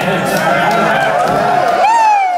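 A live comedy podcast audience in Baltimore cheers and whoops loudly throughout, a dense continuous crowd roar with scattered shouts, rising briefly near the end.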